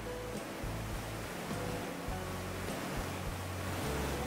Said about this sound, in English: the water flows right underneath the bridge, and then it flows out to the ocean